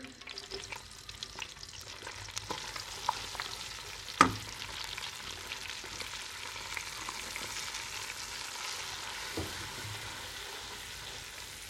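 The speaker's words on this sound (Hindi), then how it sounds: "तो अब हम इसमें ये बेसन डाल देंगे।" Gram flour sizzles softly in a pan over medium heat with a little maida, a steady low frying hiss with scattered scraping stirs and one sharp clink.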